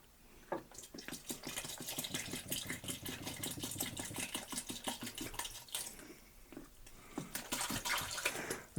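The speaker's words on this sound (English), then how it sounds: "we don't really need to pour in the full gallon of water." Water pours steadily into a fermenter for pineapple country wine mead, a continuous splashing gush with a brief pause near the end before the flow resumes, close and moderately loud.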